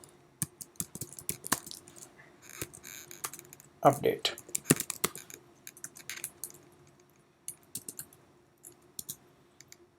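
Close keyboard clicks in irregular bursts, with a quick flurry of keystrokes midway and a brief spoken word among them.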